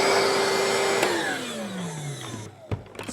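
A Ryobi bucket-top wet/dry vacuum runs in blower mode with a loud steady whine, then the motor pitch falls away as it powers down, followed by a few faint clunks.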